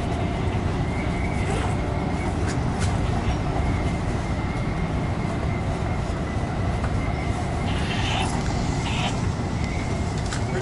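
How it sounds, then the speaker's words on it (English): Passenger train riding the rails toward Great America, a steady loud rumble and rattle of wheels on track filling the whole stretch, with faint high squeals and whistling tones drifting over it and no talk. "Ride on this train has been pretty whistly."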